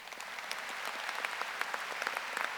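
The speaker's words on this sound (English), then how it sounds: "round of applause" Graduation audience at a high school ceremony gives a round of applause, a steady, fairly soft wash of many hands clapping throughout.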